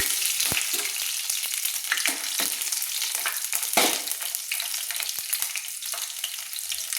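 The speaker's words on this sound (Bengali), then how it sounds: "10-12টা রসুন আমি ছাড়িয়ে নিয়েছি, সেগুলো আমি ভেজে নিচ্ছি।" Whole dried red chillies and peeled garlic cloves fry in hot oil, a bright steady sizzle with crackles and intermittent clinks and scrapes of stirring, close up and without talk.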